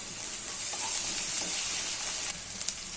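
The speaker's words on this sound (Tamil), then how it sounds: "2 பச்சை மிளகாய் கட் பண்ணி வச்சுருக்க பச்சை மிளகாய் போட்டு வதக்கிக்கோங்க" Green chilies sautéing with frying onions in a pan for an egg curry, a steady close sizzling hiss that stays even throughout, with a few soft stirring scrapes and no talking.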